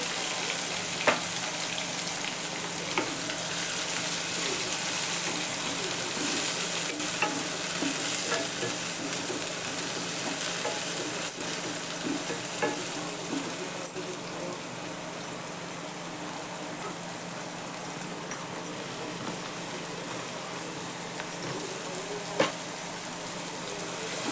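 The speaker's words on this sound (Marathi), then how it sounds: "जिरं मोहरी भरपूर कांदा घालायचा" Plenty of onion with cumin and mustard seeds fries in hot oil, a steady close sizzle with faint pops and occasional stirring scrapes, continuing unbroken.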